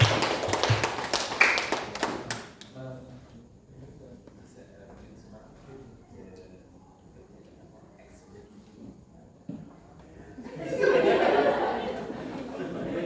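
Audience clapping breaks out at the close of a session at a Malaysian religious talk, a burst of hand claps with chatter and light laughter at the start, fading to quiet murmuring and then swelling again near the end.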